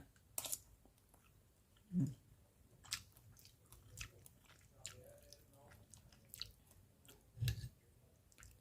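Red pork and crispy pork being chewed, with soft, sporadic bites and squishy mastication sounds, a few sharper crunchy moments standing out against a quiet background and no talking.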